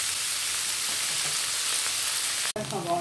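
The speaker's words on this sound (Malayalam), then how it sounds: "സവാളയൊക്കെ നന്നായിട്ട് മൂത്ത് വന്നിട്ടുണ്ട്" Onions fry in hot oil in a pan, a steady close sizzle that runs evenly until a sudden cut near the end, followed by brief quieter kitchen sounds.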